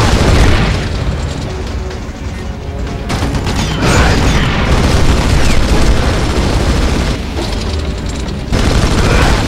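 Red Faction 2 combat with constant loud gunfire and booming explosions, dense overlapping bursts and blasts with brief dips in intensity.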